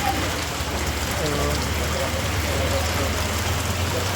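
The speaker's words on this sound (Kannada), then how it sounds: "ಫುಲ್ಲು ಜೋರು ಮಳೆ" Heavy rain pours down near an eye hospital on the road to Dharmasthala, a loud, steady, dense hiss with a low engine hum beneath and a voice briefly audible.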